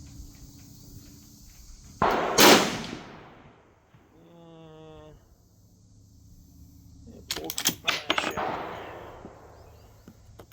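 A Marlin 336 lever-action rifle fires close by, with a sharp loud report followed by ringing decay, a metallic tone in between, then a cluster of rapid cracks and clacks of shots and lever cycling.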